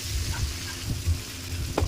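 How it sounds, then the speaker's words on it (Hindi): Onion and tomato frying in a pan with cumin seeds and whole coriander, a steady close sizzle with soft stirring scrapes and a few brighter clinks, no talking. "ये जो प्याज हमारा टमाटर है इसको अच्छे से डाल के भूनेंगे"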